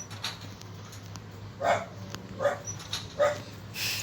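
A dog in the video game Metel barks three times at spaced intervals, short sharp yaps over a low steady hum, sounding a little distant.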